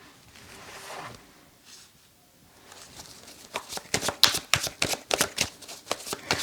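A tarot deck handled as cards are drawn, a quiet start giving way to a fast run of close, crisp card flicks and slaps in the second half.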